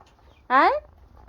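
A single loud, harmonic squawk from a chicken in a coop, close and alone, lasting about a third of a second amid quiet background.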